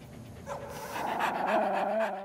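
A dog panting close by in quick, rhythmic breaths that grow louder toward the middle, with faint whimpering tones mixed in and no talk.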